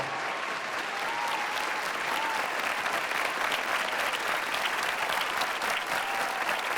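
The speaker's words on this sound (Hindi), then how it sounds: "ज़ोरदार तालियों से इस्तकबाल किया जाए विजेंद्र सिंह परवाज साहब का" A large audience at a grand mushaira claps steadily to welcome Urdu poet Vijendra Singh Parwaz, a dense, even wash of applause holding at one level throughout.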